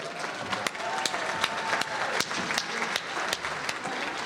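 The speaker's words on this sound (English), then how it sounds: "Let's give her another hand of applause." Diners at a Democratic gala applaud State Representative Yvonne Hinson in a steady, crowded round of clapping with a few sharp louder claps, and a faint murmur of voices runs underneath.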